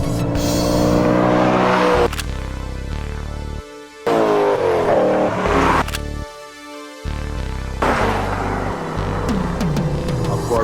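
Vintage Chevrolet Corvettes accelerate hard in a roll drag race, loud close engines revving up through several gear changes with brief drops between pulls, rising and falling in pitch.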